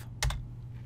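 A couple of quick keystrokes on a computer keyboard, close and brief, over a low steady hum.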